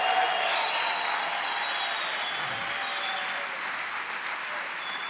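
A church congregation applauds steadily throughout, a dense, even wash of clapping from a large crowd with no pauses.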